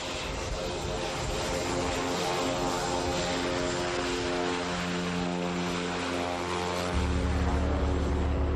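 A small propeller plane used for skydiving drones loudly and steadily from close by, with a buzzing harmonic tone that deepens and swells toward the end.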